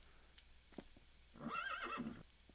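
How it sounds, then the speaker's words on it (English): An undead horse in Minecraft gives a single high, wavering whinny after a few soft clip-clops, quiet and close, with no talking. "Yeah, I think that's an undead horse."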